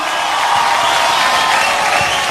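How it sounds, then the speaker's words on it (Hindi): Studio audience applause on a comedy show set, a dense steady burst of clapping from many hands lasting a couple of seconds, loud and close with no voices over it. "जीत के लिए तालियां"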